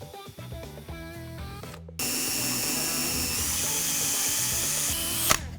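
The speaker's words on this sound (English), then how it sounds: "Now all we have to do is drill some holes." A power drill whirs in short bursts, then runs continuously at a high, steady pitch before cutting off abruptly while drilling holes for kitchen cabinet handles.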